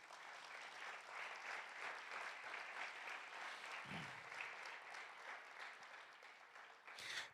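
A church congregation applauding during a Sunday service, sustained dense clapping from many hands that continues for about seven seconds at a fairly even level, with a brief low thump partway through.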